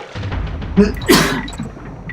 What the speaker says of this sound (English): In fact, I gotta sneeze.